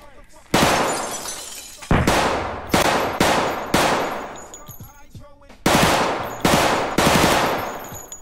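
Loud bursts of automatic gunfire in a video game, several separate volleys with brief pauses between them and a person talking over the shooting.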